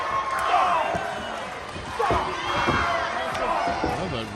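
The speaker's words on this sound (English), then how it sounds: "Look at the crowd cheering for you" A crowd at a live wrestling show cheers and roars in swelling waves around the ring, with thuds of action mixed in and a commentator talking over the noise.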